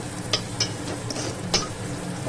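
Food frying in a pan gives a continuous close sizzle, with a few sharp scrapes of a utensil against the pan.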